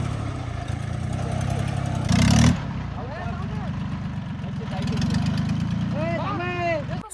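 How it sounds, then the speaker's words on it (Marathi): A Swaraj 744 4x4 tractor engine labors in thick mud, a steady, loud diesel drone with a surge of effort as it pulls free, under excited shouting voices. "744 स्वराजने आहे ना तो ट्रॅक्टर एकदम ताकदीने बाहेर ओढून काढला बरं का"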